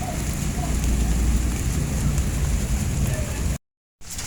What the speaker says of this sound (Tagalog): Lakas na ng ulan, oh.